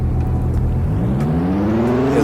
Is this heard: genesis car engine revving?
yes